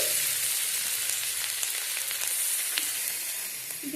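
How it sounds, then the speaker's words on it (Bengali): Chopped carrot frying in a little white oil in a wok, a steady close hiss of sizzling that holds evenly throughout with a few faint crackles and no talking. "কড়াইয়ে দিয়ে দেব গাজর কুচি"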